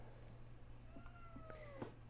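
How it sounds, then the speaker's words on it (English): A pet cat cries and whines faintly in the background indoors, a few thin, drawn-out meows rising and falling over a steady low hum. "Sorry if you can hear my cat crying in the background."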